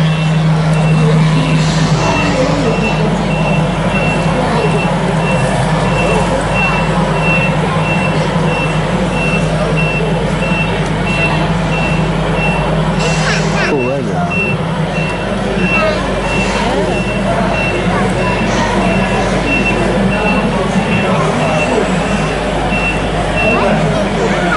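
A lorry engine rumbles steadily at close range while a reversing alarm beeps in a regular rhythm throughout, with voices talking over it at a vintage vehicle show.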